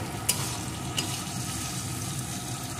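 Potatoes and pointed gourd frying in a pan for potol fry, a constant dense sizzle with two sharp clinks of a spatula against the pan.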